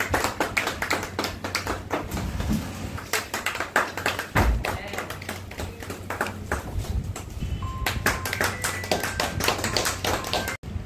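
Crowd applause at a World Blood Donor Day ceremony in Barrackpore's sub-divisional hospital, a dense, steady patter of many hands clapping throughout, with speech and room noise mixed underneath.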